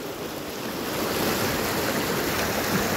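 Water runs steadily at the Khuzdar picnic point, seeping and trickling from rock into a constant close rushing hiss with no pauses and no voices.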